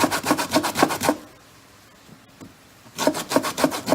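Orange rind is grated for white soda bread. Quick rhythmic rasping strokes come close and steady, then stop for about two seconds of near quiet before a second burst of brisk grating.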